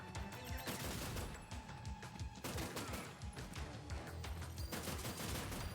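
Rapid gunfire and explosions in the Terminator 2D: NO FATE game, a dense continuous barrage of shots with bursts and booms, loud and unbroken across the whole stretch.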